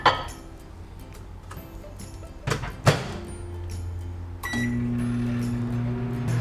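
A microwave oven heating a maple and vanilla high-protein cake, giving a steady low hum that steps up louder partway through, with a few clicks and small clinks at the start and around the middle.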